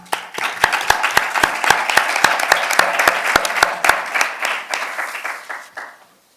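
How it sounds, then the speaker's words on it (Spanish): Audience applause at a Spanish-language talk and meeting event: dense, steady clapping from a small crowd that rises quickly, holds for about five seconds with a few sharper claps on top, then thins out and stops. "Un aplauso."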